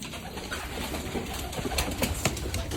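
Young pigeons in a loft give soft, low cooing under steady background noise, with a few brief rustles and clicks nearby.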